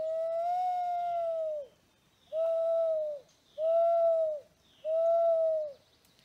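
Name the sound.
mourning dove call imitated by blowing into cupped hands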